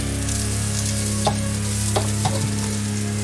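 Dehydrated vegan meat pieces browning in a pan give an even, close frying hiss over a low hum, with three sharp scrapes of a utensil stirring them.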